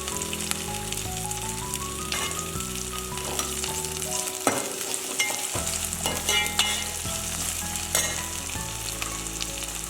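Ginger sizzles and fries in a pan for a sour, spicy moru curry, with a steady crackle, repeated stirring scrapes and a brief clatter in the middle, with no talk.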